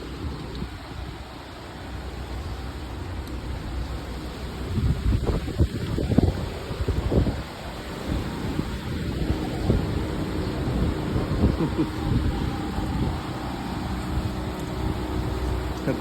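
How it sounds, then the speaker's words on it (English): Strong hurricane wind gusting outdoors during Hurricane Ian, a steady rushing roar with louder buffeting bursts across the microphone and no talk. "Yeah, it's pretty windy."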